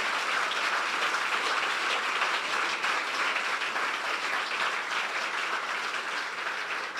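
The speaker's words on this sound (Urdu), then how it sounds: "بجا دیں یسوع کے لیے تالیاں, اپنے لیے بھی بجا دیں" Sustained applause from a large church congregation during a sermon, a dense, even wash of clapping hands that continues steadily throughout without voices.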